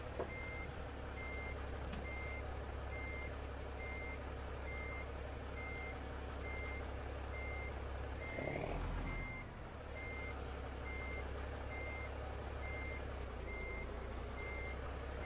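A truck backing up a trailer in American Truck Simulator, its reversing alarm beeping in a steady evenly spaced rhythm over a constant low engine rumble, with a brief air-brake hiss midway.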